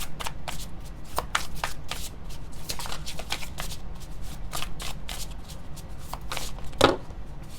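Tarot cards are handled and put back into the deck, giving a steady run of crisp riffling and slapping card sounds up close, with a slightly firmer snap near the end.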